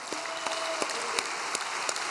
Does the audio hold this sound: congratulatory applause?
yes